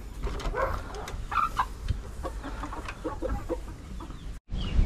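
Farm chickens clucking in a backyard coop, several birds giving short scattered clucks at close range over a low background, with a brief dropout near the end.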